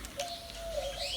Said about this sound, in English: God, these fucking birds.